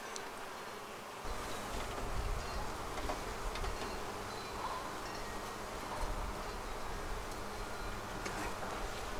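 Honey bees buzz loudly in a dense, continuous swarm-like hum around an opened hive during a hive split, close to the listener, with occasional faint rustling of frames and no talk.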